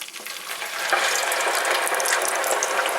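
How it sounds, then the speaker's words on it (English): Frozen chips dropped into hot oil in a Salter/Livivo deep fat fryer, a steady dense sizzling crackle that swells after the first second and stays loud and continuous with no talking. "so we can carefully drop the chips in."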